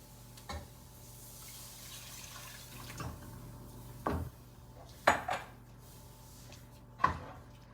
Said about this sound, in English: We're gonna add our milk.